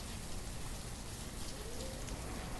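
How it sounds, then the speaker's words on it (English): Heavy rain falls steadily in the village-building game Banished, a constant dense hiss of drops covering everything, soft in level and unbroken with no voices. "Heavy cozy rain day."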